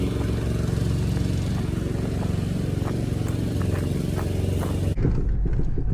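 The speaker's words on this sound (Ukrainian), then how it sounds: "останню годину точно своє обістя облаштовує, підстригає газон" Riding lawn mower tractor cutting grass at a rural homestead, a steady loud engine drone with faint clatter running continuously, then cutting off abruptly near the end.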